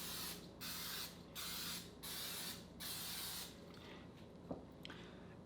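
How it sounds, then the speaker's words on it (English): Four short bursts of coconut oil aerosol spray hiss onto a donut pan in a steady rhythm, close up, followed by a few light clicks and taps in a quiet room. "we're going to use a little bit of this spray coconut oil and make sure we get a nice coating"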